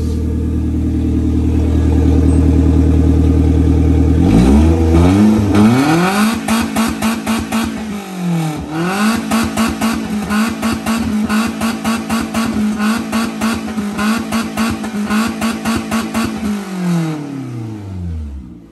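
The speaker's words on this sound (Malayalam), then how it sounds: "നമ്മള് വണ്ടി സ്റ്റാർട്ട് ചെയ്ത്" A modified Maruti Zen engine idles loudly up close, then revs again and again in quick rising and falling bursts, its raspy note throbbing steadily until it dies away at the end.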